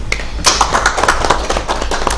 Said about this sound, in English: A round of applause to my panel today.